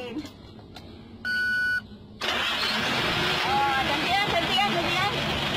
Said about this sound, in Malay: baru kita start enjin